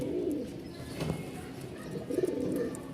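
Bashiraj pigeons in a loft cooing softly, with low murmuring coos near the start and a fuller, closer burst of cooing toward the end over a steady low background hum.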